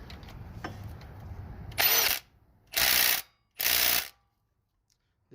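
A quarter-inch drive ratchet turns a 15 mm bolt during subframe and timing work on a 2008 Chrysler 300C 5.7, three loud, close bursts of rapid clicking after a quieter stretch of background noise.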